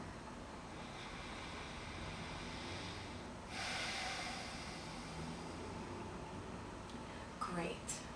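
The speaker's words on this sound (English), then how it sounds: "ask your client to take a deep breath" A person taking a deep breath during an energy-balancing session: one soft, drawn-out inhale and exhale over a steady hiss of room noise, close to the microphone, followed by a few faint small sounds, with no talking.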